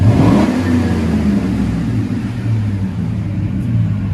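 A 2007 Chevy Silverado 5.3L V8 with dual Flowmaster 40 Series exhaust burbles at a loud, steady idle after a brief rev at the start, deep rumble continuing throughout, close.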